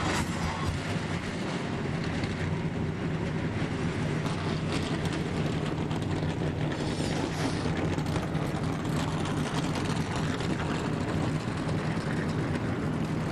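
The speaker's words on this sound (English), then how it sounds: "my fellow drivers, start your engines!" NASCAR Craftsman Truck Series truck engines fire up and idle together before the American Racing Wheels 200, a dense, steady rumble of many engines heard from a distance, continuous for over ten seconds with no talking.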